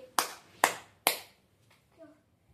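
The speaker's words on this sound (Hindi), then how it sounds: "मैं तो तालियां बजा रहा था।" A teacher in a classroom claps his hands three times in slow succession, sharp and close, each clap ringing briefly before fading, followed by a faint murmur of voice.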